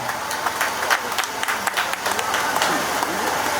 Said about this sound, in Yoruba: ẹ bá mi fún ọ ní àtẹ́wọ́